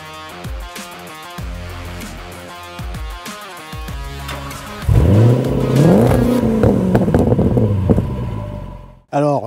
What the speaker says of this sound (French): C'est le moteur V8 de chez Jaguar avec 510 chevaux sous le capot, un V8 supercharge